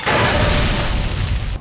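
A gas bomb in Fallout: New Vegas bursts with a loud, dense hissing blast that fills the moment and cuts off abruptly.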